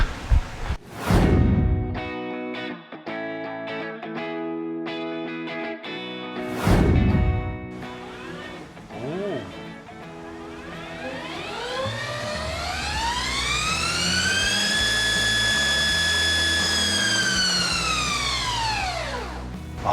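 A few sharp beeps and clicks, then a BMW CE 04 electric scooter motor idling sets up a tonal whine that climbs in pitch, holds, and slowly winds back down quickly under automatic regenerative braking.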